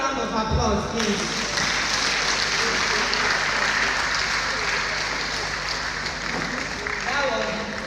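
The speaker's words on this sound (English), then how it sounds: "Applause, please." Sustained applause from an audience at a health talk on cervical cancer, steady and full throughout with no voices over it.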